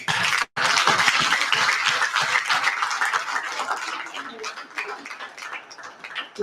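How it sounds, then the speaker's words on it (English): Crowd applause at an honoring ceremony, a loud wash of many hands clapping that gradually tapers and thins toward the end. "applause."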